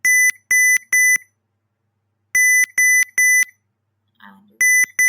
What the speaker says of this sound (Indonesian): si buzzer ini dia akan bunyi beep